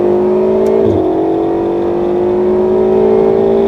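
Close, loud in-car engine of a Ferrari 488 GTB accelerating on a track, a steady rising whine with a brief dip around the first second, like a gear change, then a sustained high rev.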